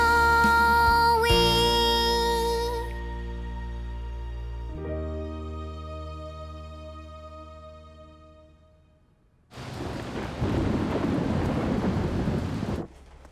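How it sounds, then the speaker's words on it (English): Cartoon thunderstorm effect for a kids' animated show: a loud rumble and crack of thunder over music-like tones, then a burst of heavy rain noise for several seconds before it cuts off. "Looks like a big storm is coming."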